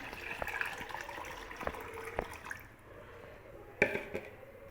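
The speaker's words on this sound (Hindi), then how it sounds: "ये देखिए अब हमने इसमें इतना ही पानी मिला देंगे" Water poured and stirred into homemade liquid fertilizer for plants, a soft continuous trickle and slosh with small drips and clinks, fairly faint and close, with no talking.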